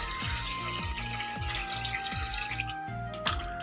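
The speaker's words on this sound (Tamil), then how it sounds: "ஃபஸ்ட்டு ஒரு சொம்பு நம்ம ஊற்றிடலாம்." Water poured from a vessel into a cooking pot for chicken biryani, a steady close splashing and trickling stream with a few drips, running alone without talk.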